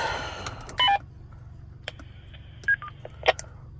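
DTMF keypad tones keying a GMRS radio repeater from a mobile rig in a car: a short run of clear beeps, then two more isolated tones, over a faint low hum.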